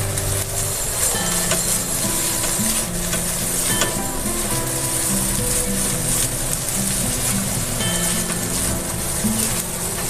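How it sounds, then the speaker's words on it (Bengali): Bitter gourd frying with rohu fish roe in a pan, a loud continuous close sizzle with stirring scrapes against the pan throughout, no talk. "আর একটু দেবো রান্না শেষ নাড়াচাড়া দিয়ে নামিয়ে ফেলব"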